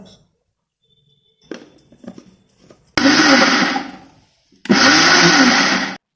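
A mixer grinder coarsely grinding roasted peanuts, dried coconut, sesame and poppy seeds: two loud whirring bursts of about a second and a half each, split by a short pause, after some quiet handling clatter.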